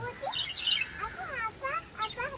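Small sparrows chirp and squawk while feeding outdoors, several quick bright calls scattered close by over a faint background.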